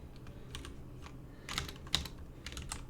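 Computer keyboard typing during a coding session: quick, uneven clusters of soft key clicks, close and fairly quiet, with no talking.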